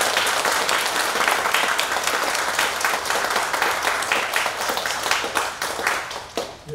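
Audience applause for a cellist and piano accompanist at a concert hall event, dense steady clapping from a crowd lasting throughout, tapering slightly near the end.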